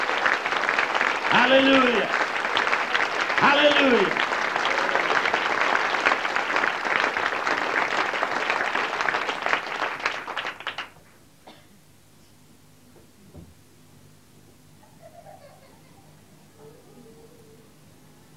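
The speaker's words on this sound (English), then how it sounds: "Give Jesus a clap of hands" Church congregation claps hands together in a sustained, lively burst with voices calling out over it, then the clapping stops abruptly, leaving a quiet room with faint sounds.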